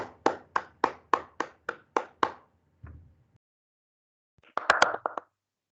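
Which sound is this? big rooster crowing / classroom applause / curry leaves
classroom applause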